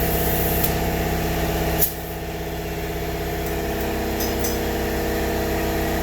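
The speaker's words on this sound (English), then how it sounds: "So my compressor." An air compressor runs steadily beside a wheel being sprayed with ceramic coating, a continuous close mechanical drone with a brief change in pitch partway through, and no speech.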